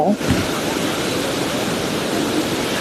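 A steady, dense rush of falling water fills the scene, loud and constant throughout with no pauses.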